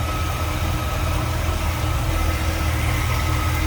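A 1963 Chevrolet Bel Air's 350 V8 with a 4-barrel carburetor and Edelbrock intake idles steadily up close, a smooth, even low rumble with no voices over it.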